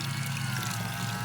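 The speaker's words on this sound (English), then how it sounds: "And I'm filling it up because it needs more water." Water pours steadily into a bucket in one continuous splashing rush, close and even from start to finish.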